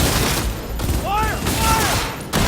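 Dense gunfire bursts in a futuristic Rio de Janeiro shooter set in 2076, a steady rattle across the clip with a short silence near the end. A voice shouts briefly over the noise.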